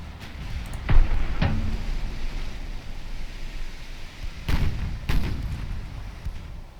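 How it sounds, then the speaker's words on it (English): Torpedoes launching in the naval battle game Ultimate Admiral Dreadnoughts, with two pairs of dull, heavy thumps standing out over a constant rushing, rumbling sea-and-engine noise. "Come on, torpedoes. Away."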